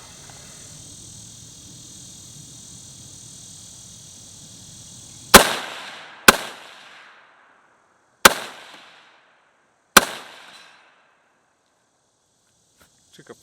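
Four sharp rifle shots from a Galil ACE chambered in 7.62x39, spaced unevenly over several seconds and each trailing into a short echo, following a steady low background hum.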